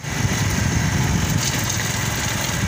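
A motorcycle engine running close by, a steady loud throbbing idle with a rapid low-pitched putter and no clear revving, continuous and without voices.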